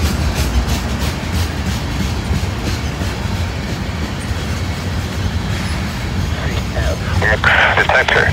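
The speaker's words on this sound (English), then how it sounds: "We got a long train here." A long Union Pacific and CSX freight train rolls steadily past nearby on the old B&O line with continuous rumbling and rhythmic wheel clatter, a brief metallic squeal near the end.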